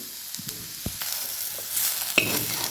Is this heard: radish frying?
yes